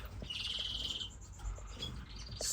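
Finches chirp in a home bird room, a few quick high tweets and short calls, fairly faint and close, with a low room rumble underneath.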